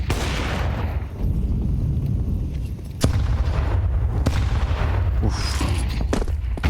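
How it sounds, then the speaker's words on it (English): Heavy artillery barrage and grenade blasts during a professional Counter-Strike 2 esports match, a dense continuous rumble of booms with sharp explosive cracks near 3 and 4 seconds, loud and alone. "Artillery barrage connecting onto Torse, and he's just been booked by the grenades."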